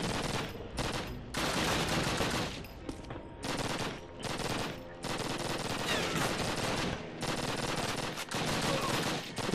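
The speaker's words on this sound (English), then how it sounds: "Till you stop hearing gunfire." Dense bursts of automatic gunfire from Call of Duty Classic's train station level, including the MP40, crackle loudly in rapid volleys with only brief gaps between them.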